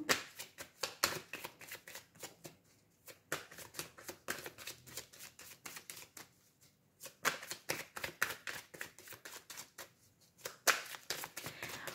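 Tarot cards being shuffled by hand, a close, crisp run of rapid riffling flutters in repeated bursts with short pauses between them, no talking.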